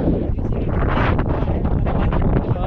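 Steady, loud wind buffeting the microphone outdoors at a flower farm in Houli, Taichung, Taiwan, a constant rushing roar with brief gusty swells and no clear speech.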